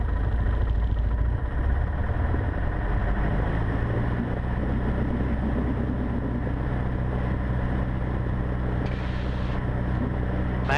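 A Cessna 150 engine runs up to 1700 rpm before a magneto check on a rainy evening. The steady mid-pitched drone is loud and continuous from inside the cockpit, with no talking.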